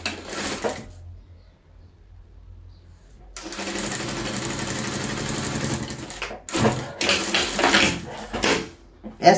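A sewing machine stitches patchwork fabric for a double-sided scrap bag, whirring in a steady run after a quiet pause, then stopping and starting in short bursts; nearby handling noises mix in, and someone talks at the start.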